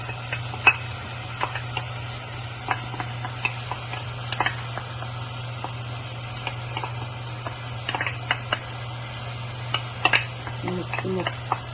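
Chopped ginger fries in hot oil in a pan in a home kitchen, a faint steady sizzle under a constant low hum, broken by scattered clicks and scrapes of a utensil against the pan.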